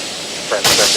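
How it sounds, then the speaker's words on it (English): A broad rushing hiss of the launch pad sound suppression water deluge surges up and swells loudly over a low roaring background before a Space Shuttle Atlantis launch, with a faint voice mixed in. "Sound suppression water system is activated."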